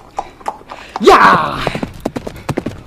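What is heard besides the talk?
horse hooves clip-clopping at speed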